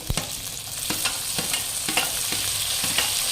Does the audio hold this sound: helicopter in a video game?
no